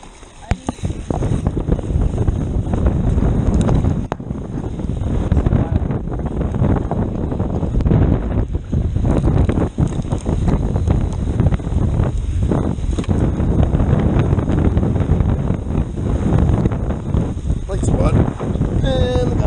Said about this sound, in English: Oh, big nuclear gust.